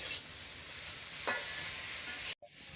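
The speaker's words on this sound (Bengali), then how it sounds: "এই যে কমলি শাক রান্না করে বানছে, তেল দিয়ে সুন্দর করে ভাজি করে বানছে।" Kalmi greens (water spinach) fry in oil with a close, even sizzle while being stirred, with one louder scrape partway through and a brief cut near the end.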